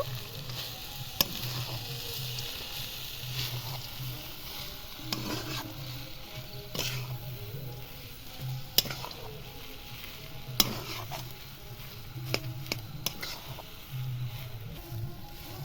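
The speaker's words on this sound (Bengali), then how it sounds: "এবার একসাথে মিশিয়ে নেব।" A spice-coated vegetable mixture for vegetable chops is stirred in a hot pan. A continuous soft sizzle runs under it, with periodic scraping strokes and a few sharp utensil clicks. No voices, moderately quiet and close.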